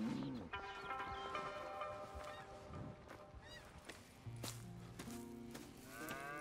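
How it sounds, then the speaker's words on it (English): Cattle lowing in a Red Dead Redemption 2 farm scene, several drawn-out moos overlapping at moderate distance with fowl honks mixed in and no talk. "Here's the cows."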